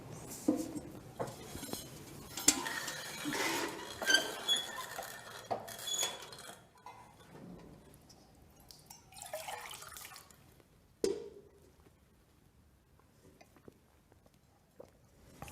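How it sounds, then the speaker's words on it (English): Water drawn from Jacob's Well splashes and drips in a busy, uneven run of trickles and spatters, then thins out to a few faint drops and quiet after about eleven seconds. "So let's draw some water from Jacob's Well."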